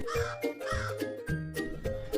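A cartoon crow in a children's story gives a run of harsh, nasal caws. Four or five loud calls follow each other in quick succession, close and clear, with no talking.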